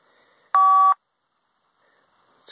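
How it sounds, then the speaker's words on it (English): A Motorola bag phone lets out a single loud, steady electronic beep lasting under half a second when its power button is pressed, followed by near silence. "I just press the power button."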